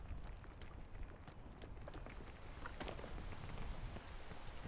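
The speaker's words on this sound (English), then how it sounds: "Forgot about the rain in the tropics." Rain falling in the tropics of the video game PEAK, a soft, steady patter of drops on surfaces, faint and continuous with no voices.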